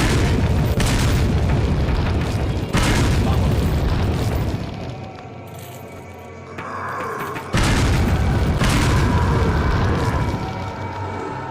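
Grenades go off in a modded video game, heavy booming blasts at close range with dense rumbling tails, a lull in the middle before another big detonation, continuing loud to the end, with no talk over them.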